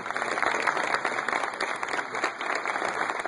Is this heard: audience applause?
yes